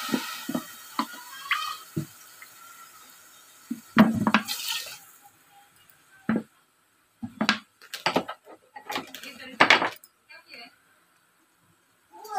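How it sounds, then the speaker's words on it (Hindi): Water poured into a hot pan of sugar for syrup, heard as short splashy bursts with clinks of the pan between stretches of silence, while a voice speaks intermittently. "इसमें हम 2 कप पानी डालेंगे।"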